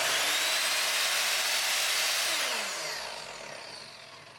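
A Skil 10-inch dual bevel sliding miter saw running: a loud, steady high-pitched motor whine that holds for a few seconds, then starts winding down.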